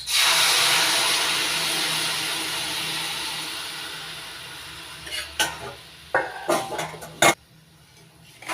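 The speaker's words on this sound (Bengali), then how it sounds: "এবার দিয়ে দেবো ছেঁকে নেওয়া গুড়ের রস" Strained jaggery syrup pours in a steady hiss into a jujube pickle mixture of turmeric and salt, fading gradually, then a few sharp clacks and scrapes of stirring toward the end.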